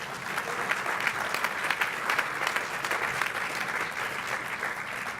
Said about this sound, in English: deserves a round of applause, I think